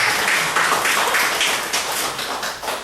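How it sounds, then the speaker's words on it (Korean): A church congregation applauds together during a sermon, a dense, steady wash of clapping lasting a few seconds with no voices over it. "박수."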